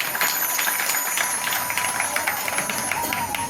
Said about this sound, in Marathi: त्या रांगोळीसाठी जोरदार टाळ्या वाजवा